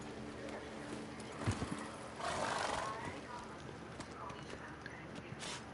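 Geralt's horse Roach in The Witcher 3: Blood and Wine slows from clip-clopping hooves to a halt, with a snort or short whinny midway and a voice talking over the moderate hoofbeats and ambient music.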